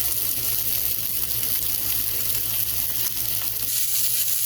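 A burger patty, a Texas BBQ burger, sizzling hard in a hot smoking pan, a dense, steady crackling hiss held close and loud throughout, ending with a slight drop near the close, no voices.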